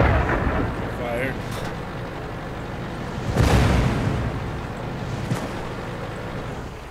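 The Grille tank destroyer's gun in World of Tanks on the Malinovka map fires with a deep booming blast that rolls out like thunder, set against a steady rumbling background.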